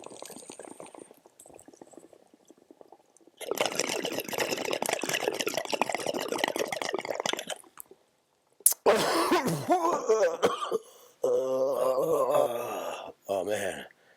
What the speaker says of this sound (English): should we hear what a bong sounds like on autotune?